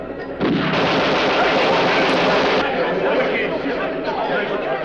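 Gunfire in an episode of the Captain Scarlet TV series: loud, dense burst of shooting that swells then carries on as a sustained clatter, with talk mixed in.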